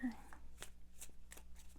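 Soft, rapid riffling of a tarot deck being shuffled in several quick bursts, fairly quiet with a faint murmur in the background.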